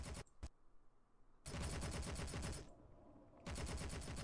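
Incoming weapon fire in the Space Engineers video game, loud dense bursts of rapid gunfire in three long volleys separated by brief rumbling lulls, close and continuous with no talk.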